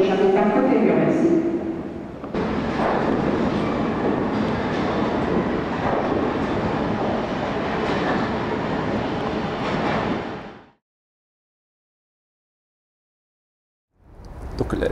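A Paris metro train at the platform, with a loud, sustained rumble and hiss of the train running for several seconds, then cutting to near silence before noise returns.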